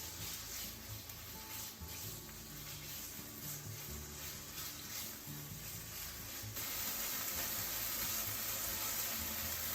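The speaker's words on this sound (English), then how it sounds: "Heat up some vegetable oil in the frying pan, about a tablespoon. And I'm going to cook the chicken first." Chicken pieces fry in about a tablespoon of hot vegetable oil in a frying pan, giving a steady close sizzle and crackle that swells louder toward the end.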